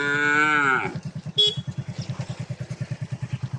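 A cow lets out a loud, drawn-out moo nearby at a ferry landing on the Karatoya River, then a motorcycle engine chugs in a steady rapid rhythm as it idles or pulls away.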